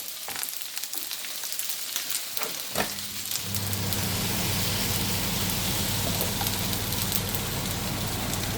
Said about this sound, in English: the chilies first. Fry them off. Just added about a tablespoon of mustard oil.